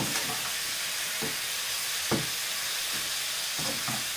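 Food browning in a frying pan, a steady bright sizzle and hiss throughout with a few soft scraping stirs at intervals; no voices.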